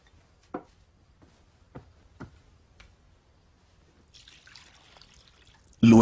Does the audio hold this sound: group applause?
no